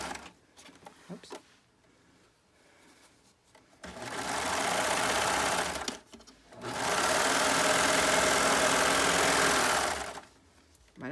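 A sewing machine stitches a fabric scrunchie in two sustained runs of fast, even whirring and clatter, close up, separated by a pause, with quieter handling and fabric rustle before and after.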